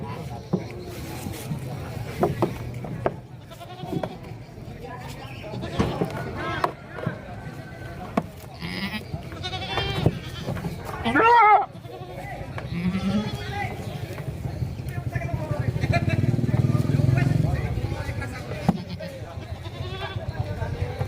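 Goats bleat at a livestock market in Simpang Sribhawono, with short calls rising over close talking and market bustle.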